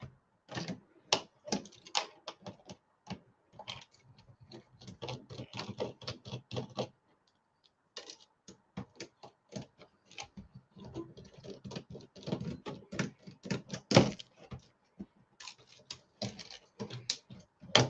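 A computer keyboard being handled and pulled apart, giving bursts of dry plastic clicks and rattles with a brief pause partway through. The sound is close and fairly quiet, with no speech.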